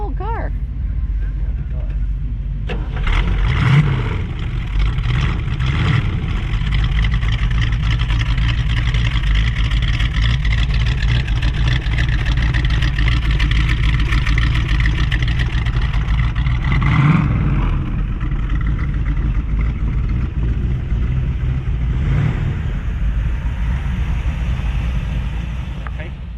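A 1964 Sunbeam Tiger with a Ford V-8 and a rattly exhaust fires up and settles into a steady, loud rumble with a few revs. It runs close and continuous while people talk over it.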